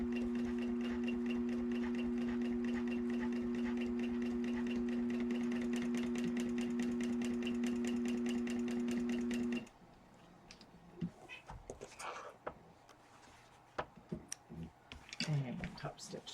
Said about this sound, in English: Just top stitch this.